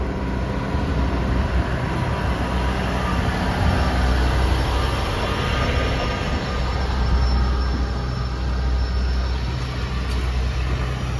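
A London to Aberdeen train rumbles past a level crossing nearby, a steady, heavy roar of wheels on rails that holds loud and even throughout.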